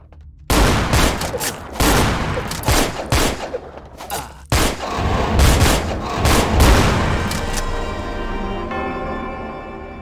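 Gunfire in the video game Vampire The Masquerade Bloodlines: loud, close bursts of shots in quick, uneven clusters, followed by a sustained ringing tail as the firing stops.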